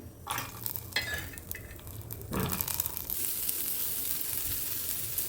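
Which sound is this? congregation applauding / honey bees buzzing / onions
onions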